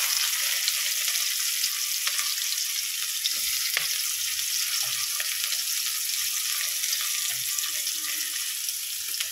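Chopped onion with crushed whole garam masala (cloves, cardamom, cinnamon) and a bay leaf frying in oil, a steady close sizzle with faint scraping, no voices.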